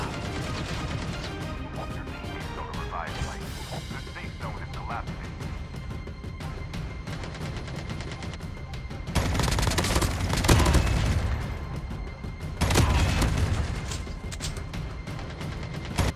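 Gunfire between opposing players in a Call of Duty Mobile battle royale match, sustained crackling exchanges with louder bursts around the middle and later, heard at mid distance over game ambience.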